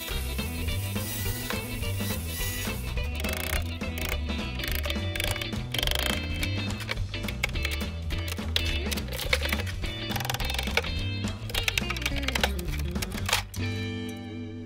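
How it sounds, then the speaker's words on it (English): Tools work at a wooden shipping crate holding a wheel anvil and stand, giving irregular mechanical clicks, ratcheting and knocks in quick bursts, with a steadier mechanical whir and a sharp clatter near the end. "now of course I need to get it all out, so it's time to open the crate"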